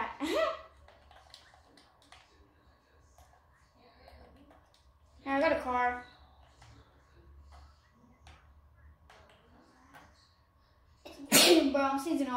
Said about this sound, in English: I'm sneezing all over the place.